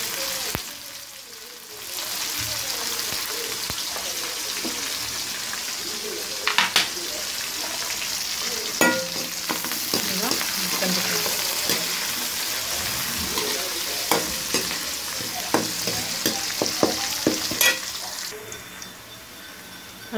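Curry leaves sizzling and crackling in hot oil in a pan while making idli upma, with a steady broadband frying hiss and scattered louder pops and stirring clatters throughout.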